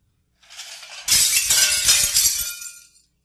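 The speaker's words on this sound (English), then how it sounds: "Breaking glass." Glass breaks in one loud, close crash. A scattering, tinkling spray of shards follows and fades out after about two seconds. No other sounds are heard.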